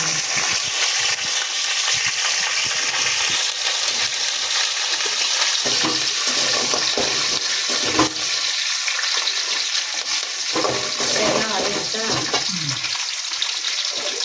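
Lentils sizzle and fry in hot oil for a ridge gourd chutney, a steady loud crackling hiss with occasional stirring scrapes, and no talking over it.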